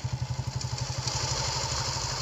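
A motorcycle on a forest track in Jamaldha Forest idles and revs close by, its low engine pulsing in a quick steady rhythm before smoothing into an even drone.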